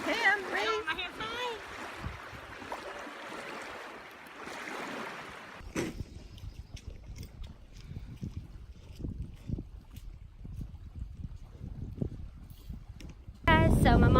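Wind gusting at a lake buffets the microphone: a roaring, broadband rush at first, then low rumbling bursts and thumps that come and go, with voices partly audible beneath it.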